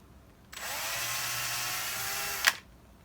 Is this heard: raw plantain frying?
no